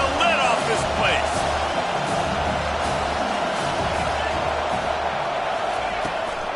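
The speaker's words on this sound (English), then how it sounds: "this crowd is tearing the lid off this place." A stadium crowd in NCAA College Football 25 roars as a steady, dense wall of noise, loud and continuous throughout.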